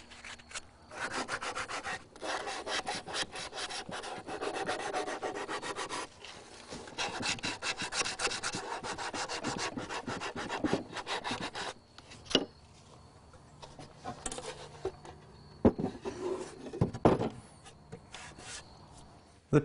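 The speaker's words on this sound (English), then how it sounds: "I'm just going to take a little sanding block" Continuous scratchy rubbing of a sanding block on wood edges, steady back-and-forth strokes with a few brief pauses and knocks near the end.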